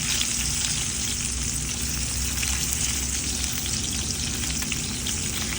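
Hilsa fish frying in a pan of hot oil gives a steady, loud, close sizzle with dense crackling that runs unbroken throughout.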